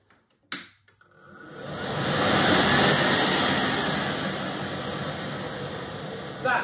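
A few sharp clicks come first, then a BOFA fume extractor fitted with a replacement motor starts up, winding into a loud, steady rushing whirr of fan and air that holds and eases slightly before a final knock.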